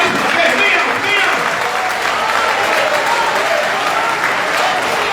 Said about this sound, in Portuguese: Você pode aplaudir o nome de Jesus mais uma vez aqui?